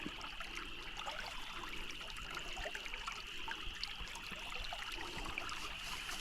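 Water swirls and trickles steadily through a gold pan during panning at a creek in Buckingham, Virginia, a continuous close wash with small splashes throughout.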